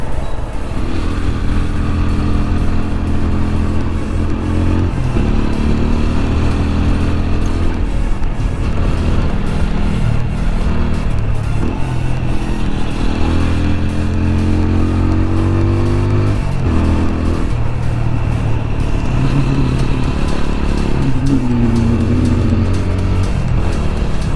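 A motorcycle rides along a road with a steady engine drone, its pitch rising and falling with the throttle throughout. The bike has a chain noise problem. No one speaks.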